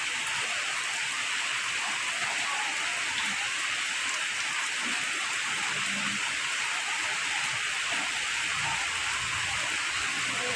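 Light rain falling steadily outdoors, a dense even hiss of drops on surfaces throughout, close and continuous with no other sounds standing out.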